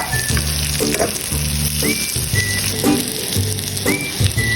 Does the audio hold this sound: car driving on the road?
no